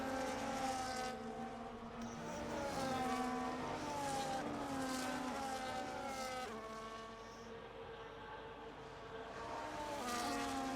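F1 25 race cars at the Australian circuit slide sideways, their engines droning steadily with rising and falling revs and faint tyre scrub throughout, with no talk over the sound.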